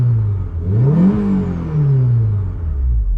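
A Honda S2000 engine revs up hard, its pitch sweeping high before falling back and rising again in a second loud rev, close by with no talk over it.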